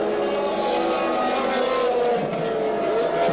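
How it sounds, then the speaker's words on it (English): 1979 Formula 1 cars, including the Ferrari T4, roar past at the South African Grand Prix with a loud, sustained high-pitched engine wail and no talking. "Gilles Villeneuve, there he is, taking the left-hander down towards the S's at Clubhouse Bend."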